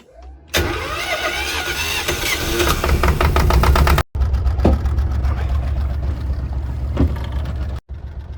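Engine of a Dufour 31 sailboat cranking and catching, then settling into a loud, steady running chug close by in the engine compartment, with two brief dropouts.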